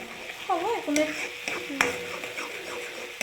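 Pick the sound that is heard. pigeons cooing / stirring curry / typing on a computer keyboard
stirring curry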